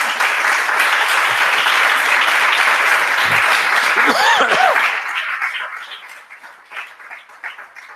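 An audience at a talk gives a sustained burst of applause, dense and steady for several seconds, with a few chuckles, then fading into scattered claps.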